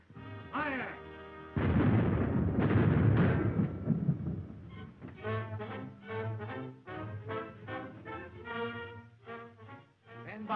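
A ship's cannons fire a broadside in a 1936 film, a heavy booming blast that rolls for a couple of seconds before voices and dramatic music take over.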